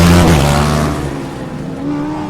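A Formula Student race car at an endurance final sweeps past across the finish line, a loud close engine note that drops in pitch as it passes, then fades into lingering distant engine drone.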